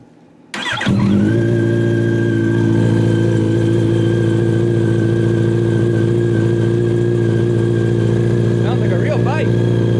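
A Yamaha FZ8 motorcycle fitted with an SC Project exhaust, baffle removed, fires up and settles into a loud, deep, steady idle close by, with a brief throttle blip near the end.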